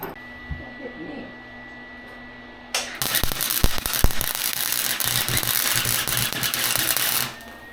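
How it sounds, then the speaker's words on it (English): Welding during the install of an NP207 transfer case in a Jeep: after a low hum, a dense, crackling buzz starts abruptly and runs steadily for about four seconds up close, then cuts off. "Well, time to go weld."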